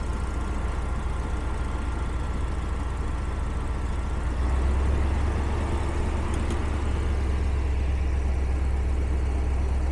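A car engine runs steadily at a high idle, with a constant close drone that deepens slightly into a stronger low rumble partway through.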